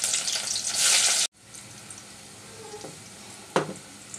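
Chopped onion dropped into hot oil in a pot gives a brief burst of loud sizzling that cuts off sharply, leaving faint background hiss with a small clatter near the end.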